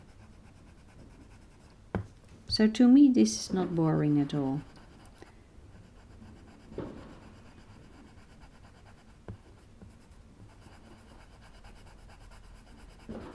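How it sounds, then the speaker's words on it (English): Colored pencil strokes on paper make faint, soft scratching while a person speaks briefly over them, followed by quieter, sparse scraping. "I love every pencil stroke that I put on the paper"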